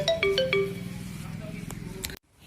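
A bright electronic ringtone trills in a quick repeating melody over a low background hum of talk, then cuts off abruptly.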